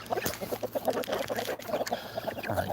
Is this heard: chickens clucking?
yes